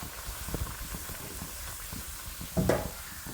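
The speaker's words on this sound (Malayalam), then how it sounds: "എണ്ണ ചൂടായാൽ പൂരി ഇട്ട് കൊടുക്കുക." Puri dough slipped into hot oil gives a soft, close bubbling fry with faint stirring clinks and a brief louder splash near the end, no voices.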